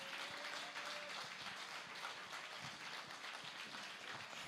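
Audience applause at a live music awards ceremony, a dense steady wash of clapping from a crowd lasting throughout, fairly quiet and distant, with no talk over it.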